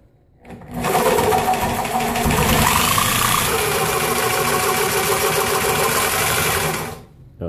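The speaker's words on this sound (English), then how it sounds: "I'm gonna use a sawzall to hack the rest of it." Reciprocating saw hacking through a control arm bushing on a third-gen Camaro or Firebird, a loud rapid buzzing chatter that starts abruptly, runs steadily for several seconds and stops.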